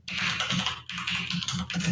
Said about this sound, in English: we can start hearing your typing